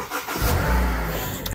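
Honda Civic 1.8 Oriel, a 10th-generation sedan, cranks and fires up close by, a short starter whirr followed by a loud rising burst of engine revs that settles into a steady idle.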